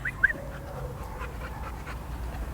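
A dog pants softly in quick, shallow breaths during training, a faint rhythmic huffing under low background noise with a brief small whine near the start.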